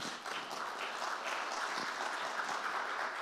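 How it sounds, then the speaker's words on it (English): A forum audience gives applause for the participants, a steady, fairly distant and soft patter of many hands clapping without pause. "So let's give a big applause to them"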